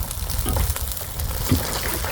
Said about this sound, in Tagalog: Kumukulo-kulo oh.